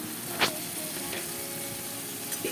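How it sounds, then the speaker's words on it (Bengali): Potato and pointed gourd pieces frying dry in a pan with no water added, for a Bengali prawn dish; a continuous close sizzle with a few sharp stirring scrapes. "এতে কোনো জল দেব না এটা এমনি ভাজা ভাজা করে নেব"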